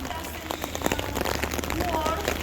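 Steady rain falls outdoors beside the Roman walls of Lugo, an even patter of drops on surfaces heard under a person speaking.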